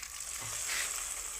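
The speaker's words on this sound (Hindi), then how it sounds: "लहसुन का तड़का लग गया है।" Garlic tadka sizzles and crackles in hot oil in a pan, a soft, continuous frying hiss with no talking.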